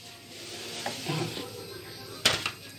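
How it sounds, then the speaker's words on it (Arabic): Crepe rolls fry in a tray of oil and ghee with a soft continuous sizzle, punctuated by scraping stirs and a sharp utensil clink near the end. "صينيه فيها حبه زيت على حبه سمنه، ونديله التشويحه التمام"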